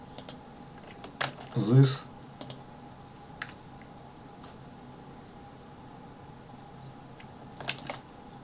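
Keys on a computer keyboard tap in scattered bursts, with a short quick cluster early on and a few isolated clicks later, close and fairly quiet, while a voice speaks briefly, during data entry in Mathcad 14.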